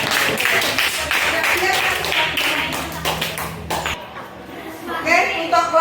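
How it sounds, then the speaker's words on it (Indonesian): Applause for a visual group at a school coaching session: a crowd claps in a dense, lively patter that fades after about four seconds, with voices and chatter mixed in. "Tepuk tangan untuk kelompok visual."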